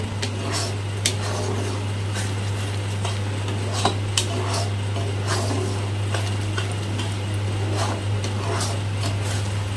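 Spice paste being stirred in a pan for a cashew paneer posto dish: steady scraping and clinking of a spoon against metal throughout, with a constant low hum underneath and no talking.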